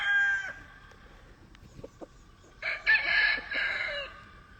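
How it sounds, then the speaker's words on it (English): Young roosters on a Louisiana farm give short crows and clucks, closely recorded, with one longer and louder crow near the end; no one speaks. "Real nice little roosters."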